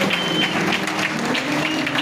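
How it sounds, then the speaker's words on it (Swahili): A church congregation breaks into warm, dense applause, a steady close patter of many hands clapping with no pause. "Pigeni makofi mazuri."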